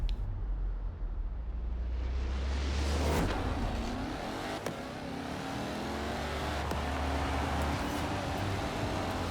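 Bowler car engine in Forza Horizon 4 accelerating from low revs, a steady close engine drone that climbs and pulls hard, with faint tire noise and brief gear-change gaps throughout.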